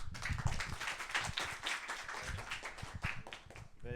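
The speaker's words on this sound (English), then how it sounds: "Round of applause to each one of you." Audience applause at a session of an international forum, a brisk burst of many hands clapping close by, fairly quiet overall and continuing steadily throughout.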